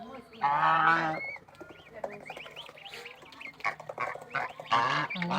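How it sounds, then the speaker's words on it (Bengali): Loud honking calls from geese and goslings at a village home, in bursts at the start and end, with softer cackling and chatter between them nearby. "রাজহাঁসের বাচ্চা দ্রুত তাড়াতাড়ি বেরিয়ে"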